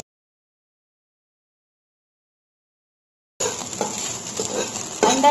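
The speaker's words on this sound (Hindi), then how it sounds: "फ्राई कर लेंगे अंडे" Eggs frying in hot oil in a kadai. After more than three seconds of silence, a close, steady sizzle begins and continues with small pops and crackles.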